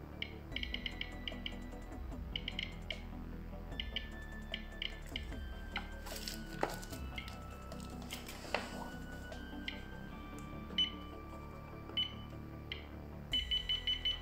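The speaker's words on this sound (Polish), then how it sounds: "Dozymetr umożliwia ustawienie progowego alarmu mocy dawki od 0 do prawie 100 mikrosywertów na godzinę." Beeps from the dose rate alarm of an RM-9000 radiation dosimeter sound in short clusters through the clip, over a steady tonal background.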